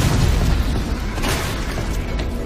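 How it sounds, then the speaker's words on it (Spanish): Explosion in Resident Evil 3, a loud deep rumbling boom that fills the whole short stretch, heavy low-end roar with some crackling debris on top, close and sustained without talk. "le explotó la cachivacha de atrás"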